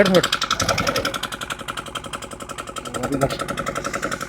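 A motorcycle engine runs with a rapid, pulsing idle chug, steady and close throughout, while several people talk over it.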